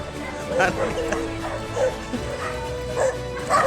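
Several dogs in a shooting video game bark and yip in short bursts over a busy background hum, with a person talking over them.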